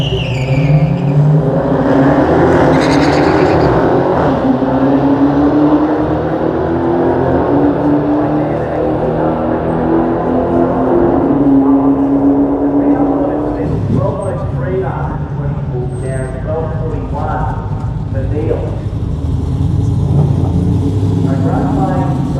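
Race cars roar past at a Mopar Sunday drag event, a loud continuous engine drone with rising pitch sweeps and a brief tire squeal, under a commentator's running talk throughout.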